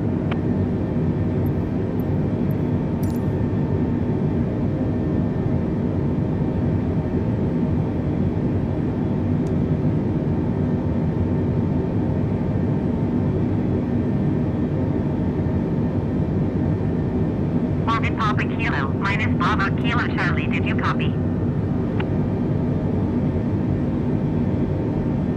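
An airliner in Microsoft Flight Simulator 2022 taxis toward gate 2 along taxiway Bravo, its engines giving a steady, even low rumble the whole time, with a brief cluster of higher clicks and chirps near the end.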